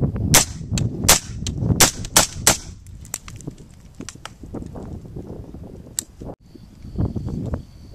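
Suppressed rifle fired with PMC 55 grain ammunition: a string of sharp, close shots in quick, uneven succession, followed by a few fainter cracks and some background noise.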